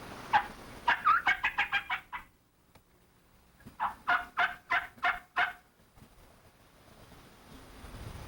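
Two bursts of rapid, rattling wild turkey gobbles, the first near and loud, a second volley after a short pause, with no talking.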